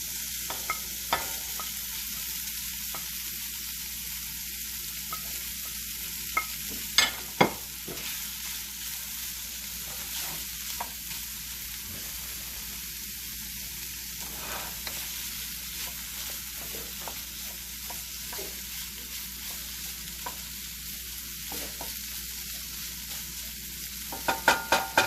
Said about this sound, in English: in this bacon grease, we're going to go ahead and add our spam.